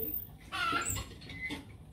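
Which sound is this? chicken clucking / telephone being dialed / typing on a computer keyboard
chicken clucking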